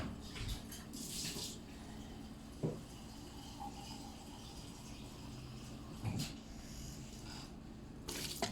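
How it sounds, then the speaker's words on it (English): A little water is poured into a pot of cooked, scattered tuwo rice, giving a soft splashing trickle with a few scrapes and clinks at the start and end, quiet and close, with no talk. "So I'll add little of water."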